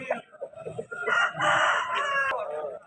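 A rooster crows close by at a Sunday country-rooster market in Vijayawada, a long strained call, with a few softer clucks before it and a sharp click near the end.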